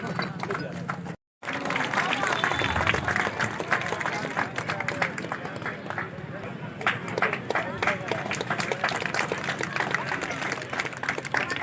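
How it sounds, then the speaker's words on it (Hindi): An audience at an outdoor Veer Nilamber Pitamber jayanti ceremony in Khalari claps to welcome guests, a dense, sustained patter of applause that continues after a brief break, with voices talking over it. "इन्हें तालियों से स्वागत करेंगे।"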